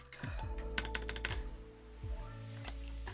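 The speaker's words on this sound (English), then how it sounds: "That sounds like a custom keyboard right there." Quick bursts of keystrokes on a hot-swap Ducky ONE 2 mini mechanical keyboard being tested with different switches, close and crisp clicks clustered together over a low background hum.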